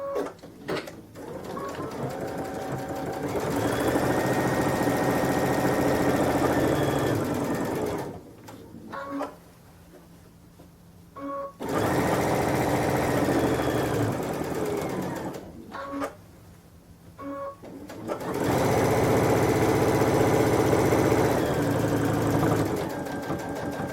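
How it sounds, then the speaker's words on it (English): A sewing machine stitches slowly through the thick folded layers of a kitchen towel, running in three long loud bursts separated by brief pauses, with no talking. "Always goes nice and slow when you're sewing through the thick area."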